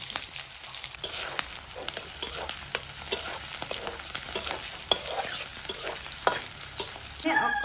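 Onion and garlic frying in hot oil in a pan, with a steady bright sizzle and repeated scraping stir strokes, close and continuous with no talking.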